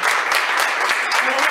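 A small crowd at a farmers' market store event claps for a local organic producer, brisk close applause with distinct individual hand claps, brief and continuous.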